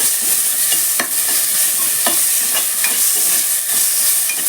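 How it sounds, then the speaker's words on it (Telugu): Ginger garlic paste fries in a pan for ghee chicken pulao, giving a loud, steady hiss and sizzle with occasional sharp scrapes of a stirring spoon, up close and without speech. "ఈ అల్లం వెల్లుల్లి బాగా వేగాలి."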